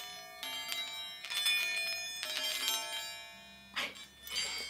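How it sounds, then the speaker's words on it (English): Small fidget toys with bells inside are shaken near by, giving bright, bursts of jingling rings with sustained tones, several separate shakes in a row, loud and clear without talk. "Both of these have bells inside, but one of them is a semitone higher."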